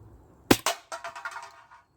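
Air rifle firing an RWS Super H Point .177 hollow-point pellet: a single sharp, close crack followed by a brief rattling clatter that fades quickly.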